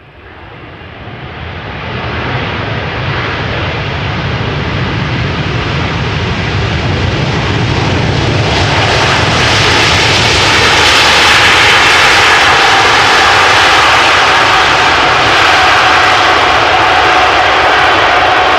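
A 10-year-old airliner, first flown in 2013, gives a loud, steady engine roar that swells over the first seconds and then holds a continuous, powerful drone, heard close and uninterrupted by talk.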